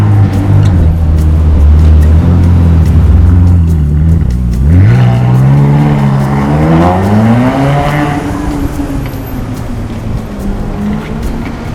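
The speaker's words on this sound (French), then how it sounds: "Et on entend une Ferrari California," A Ferrari California engine passing by outdoors, a loud low rumble that rises in pitch as it accelerates, then fades slightly as it moves on, with faint background street noise.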